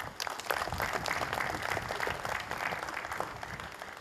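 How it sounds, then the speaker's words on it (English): Audience at a Salgaocar FC football club gathering giving a round of applause; a continuous, even wash of many hands clapping at moderate distance. "we should give him a round of applause."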